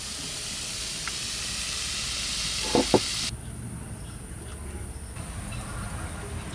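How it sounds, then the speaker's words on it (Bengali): Wild forest mushrooms fry in a pan with turmeric and salt, giving off a steady, close sizzling hiss that drops to a quieter simmer partway through, with a couple of brief clinks. "এদিকে ছাতু ভাজা হতে হতে আমি এদিকে মশলাগুলো করে নেব।"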